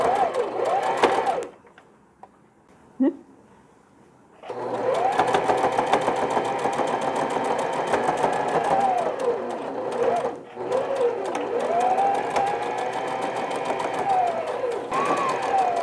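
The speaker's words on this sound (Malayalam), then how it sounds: "സ്ലീവ് സ്റ്റിച്ച് ചെയ്യുകയാണ്." A sewing machine stitches the sleeve of a smocked dress, running in long steady bursts with brief pauses between, close and loud with a whining motor and rapid needle clatter.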